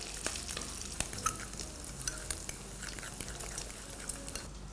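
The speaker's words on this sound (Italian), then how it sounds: "E ora mescolo bene" Pasta alla carbonara with aged pecorino is stirred in a pan, a quiet wet sizzle with soft scraping and sticky, slapping stirring strokes repeating irregularly.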